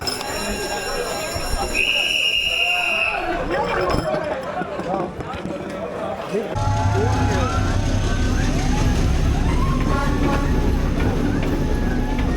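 A train rumbles past in Hanoi, Vietnam, with a steady, loud low roar and rattling, joined midway by heavier rolling noise; voices are heard under it.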